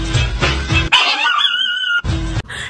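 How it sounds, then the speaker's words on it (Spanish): Dogs bark in close, loud bursts, with a run of yips and whimper-like whines between the barks, all without any human voice. "Los perros ladrando,"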